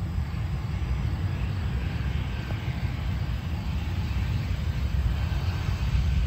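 A Delta Boeing 737-900ER airliner at Cleveland Hopkins airport gives a steady, loud, broadband jet-engine roar with heavy low rumble, sustained without pause and without voices.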